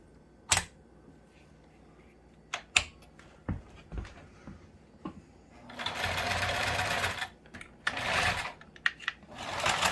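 Industrial upholstery sewing machine built for thick material, first a few sharp isolated clicks, then two bursts of fast whirring stitching up close.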